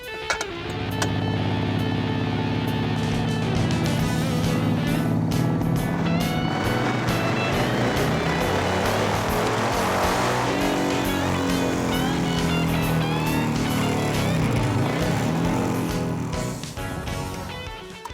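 Modified Harley-Davidson motorcycle engine strapped to a dyno, roaring continuously at high revs with rising and falling pitch as it is run up under load, loud and close with no talk.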